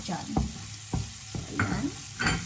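Garlic sautés gently in a pan for white creamy pasta, kept from browning, giving a steady close sizzle broken by several scraping stirs of a utensil, with no voices.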